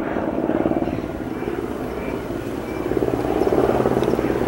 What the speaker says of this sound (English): Looks like a helicopter circling around.